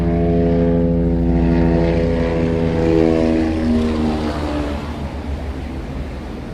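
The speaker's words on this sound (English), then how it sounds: "there's a chopper." A helicopter passing overhead, a loud, steady rotor and engine drone with pulsing tonal harmonics that hold strong, then gradually fade and shift in pitch as it moves away.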